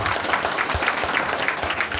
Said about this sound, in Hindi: आप इस बार मेरे लिए ताली बजाइए क्योंकि फिर आए।